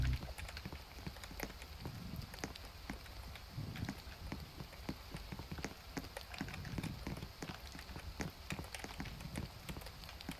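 Rain falls at night, pattering in quick, irregular drops on surfaces nearby, faint and steady throughout with no voices.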